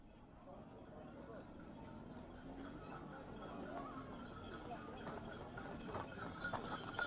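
Donkey hooves clip-clopping at a walk on hard ground while the animal is ridden, steady repeated footfalls under people talking.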